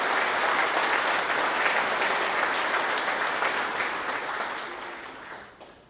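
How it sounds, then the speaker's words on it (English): Sustained applause from a ceremony audience honoring faculty members at a school completion ceremony, a dense wash of clapping that holds steady and then fades out toward the end. "Let's give our faculty members a round of applause."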